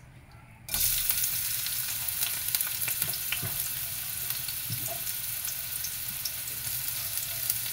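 Chopped onions dropped into hot cooking oil for an eggplant adobo burst into a loud, close, continuous sizzle that holds steady after a brief quiet start, with a few faint scrapes.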